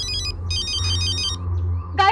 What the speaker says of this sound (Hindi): गाइस प्रियंका के डैडी का फोन आ रहा है।